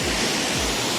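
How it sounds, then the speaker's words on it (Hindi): Large waterfall in the Madhmaheshwar valley, a loud, steady broadband roar of falling water filling the whole second with no voices. "ये रहा वो झरना है, बहुत प्यारा सा झरना है, काफ़ी बड़ा सा है।"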